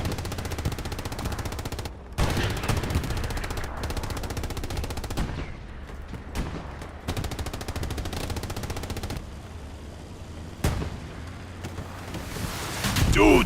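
Rocket impacts strike a Panzer IV tank in the video game Hell Let Loose during a 36-versus-36 competitive match, landing as a few heavy booms amid constant rattling machine-gun fire, with a commentator talking over the battle.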